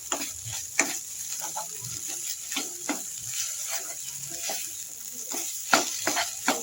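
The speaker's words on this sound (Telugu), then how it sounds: "ఇలా తిప్పుతూనే ఉండాలండి, లేకపోతే అడుగంటుంది. వీటిని అయితే బాగా ఫ్రై చేసుకోవాలండి." Grated coconut for laddoos fries and crackles in a pan as it is stirred, with a continuous close sizzle broken by frequent scraping and clinking strokes of the spoon.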